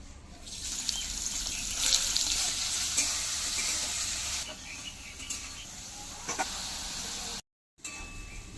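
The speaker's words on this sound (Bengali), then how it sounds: "এবার পেঁয়াজ কুচিগুলো তেলে দিয়ে দেব।" Chopped onions frying in hot oil in a kadai, giving a steady close sizzle with occasional stirring scrapes, and a brief cut to silence near the end.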